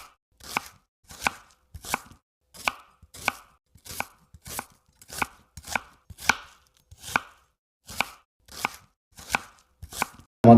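A knife chops food into pieces on a board while a meal is being prepared, about fourteen crisp, evenly spaced strikes with short silent pauses between them.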